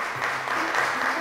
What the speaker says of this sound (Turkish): Alkışlar ve puan sarı masaya